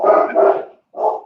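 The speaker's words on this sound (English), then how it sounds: "Sounds like we're having a barking party." Dog barking, two close loud barks in quick succession, a short pause, then a third bark, with no talk.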